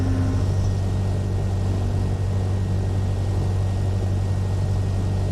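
A light aircraft engine drones steadily on landing approach at about 60 knots with full flaps in the Prepar3d flight simulator, a constant loud low hum with no change in pitch.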